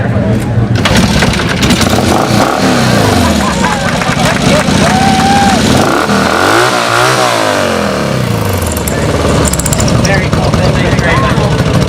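An engine on the world's oldest motorcycle starts and runs loud and close, its revs rising and falling, with voices talking over it.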